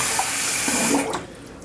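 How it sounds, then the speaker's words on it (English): Hot water running steadily from a tap at a sink, a close, full rushing splash that thins out near the end. "Put some more hot water on it."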